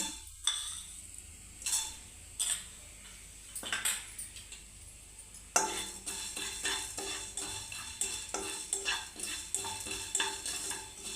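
Coriander seeds dry-roasting in a pan alongside cardamom for a spicy mutton chutney, heard as faint crackling with repeated sharp metallic scrapes and clinks of a spoon stirring against the pan, steady throughout with no talk.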